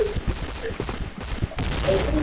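Rapid gunfire bursts pop in a quick fusillade while shooting at a generator in a video game match, fairly close and loud, with game ambience behind.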